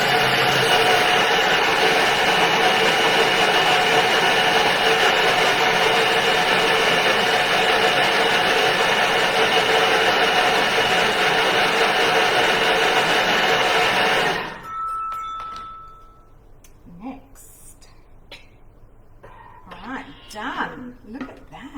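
An electric blender on speed 7 whirs loudly and steadily as it breaks up hummus with ice, then cuts out abruptly partway through, leaving quiet room tone and faint sounds.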